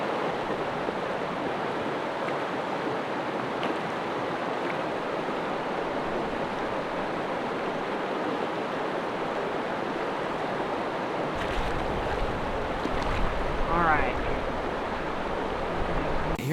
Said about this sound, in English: we're going to go ahead and seine the water